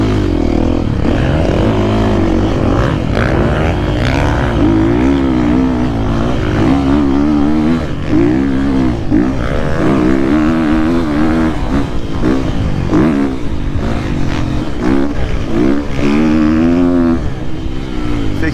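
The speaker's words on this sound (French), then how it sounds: "là on sent quand même une moto hyper puissante" Triumph enduro motorcycle with a very powerful engine, ridden in a test ahead of the Enduropale du Touquet; a loud, continuous engine drone with pulsing rev changes runs close by throughout, with no talk.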